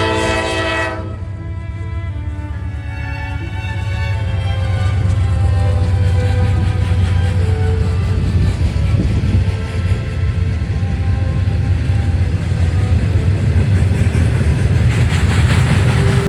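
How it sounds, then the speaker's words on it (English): A freight train passing close by, with a loud sustained horn blast at the start giving way to steady rumbling and rolling wheel and car noise that continues throughout. No talking. "here's the train."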